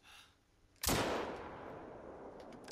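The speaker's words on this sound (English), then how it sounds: "I shot right over" A single sharp drilling-rifle gunshot in the Call of the Wild hunting game, fired at long range, cracks loudly after a quiet lull and leaves a long rolling echo that slowly fades.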